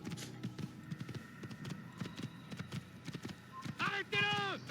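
A horse gallops in the Assassin's Creed video game, a steady run of rapid hoof clip-clops, then a high, wavering neigh near the end, with a voice talking over it.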